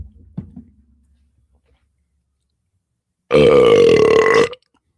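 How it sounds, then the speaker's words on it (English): A single loud, long burp from a man, lasting over a second and strongly tonal, following a stretch of near silence with a few faint clicks and rustles. "As requested, there was a burp for you guys."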